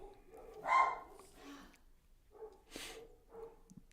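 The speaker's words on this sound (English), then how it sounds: "Dogs are barking." Dogs bark a few times at a distance, scattered single yelps and barks with quiet gaps between them and nothing else much around.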